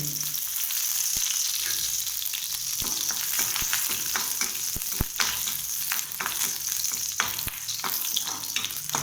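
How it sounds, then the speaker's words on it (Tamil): Four garlic cloves frying in a little oil, a constant soft sizzle broken by frequent sharp pops and crackles, close and steady, no talking. "மறுபடியும் கொஞ்சோண்டு ஆயில் விட்டு பூண்டு 4 பல்,"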